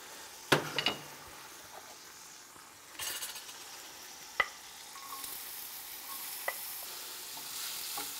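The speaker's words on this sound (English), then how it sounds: "I'm just trying to caramelize these onions" Onions caramelizing in olive oil in a pan, with a soft steady sizzle broken by a few sharp clinks and scrapes of a utensil stirring against the pan.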